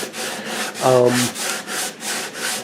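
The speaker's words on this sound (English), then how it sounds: "Here's Jeff sanding off the old finish." Rhythmic back-and-forth sanding strokes removing the old finish from a wooden archtop guitar, steady and close, with a short tonal squeak partway through.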